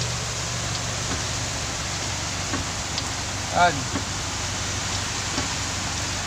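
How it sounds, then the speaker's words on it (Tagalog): Heavy rain pours down in a steady, dense hiss that fills the whole scene, with a brief voice speaking once partway through. "Lakas ba naman ang ulan eh."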